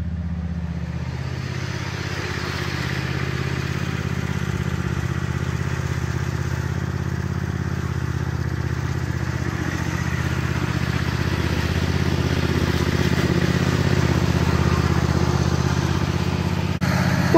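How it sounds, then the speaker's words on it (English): A red farm tractor's engine, just started, runs at a steady idle for the whole stretch, a continuous low rumble with light mechanical clatter that swells slightly louder toward the end, with no talking. "that's the red tractor started up"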